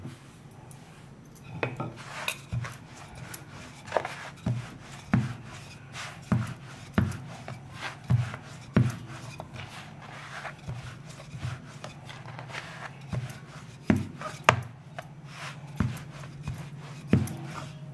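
Maida dough rolled out fairly thick with a rolling pin for shankarpali, giving a steady series of soft rhythmic wooden thumps and rubbing strokes, close and moderately loud, with no talk.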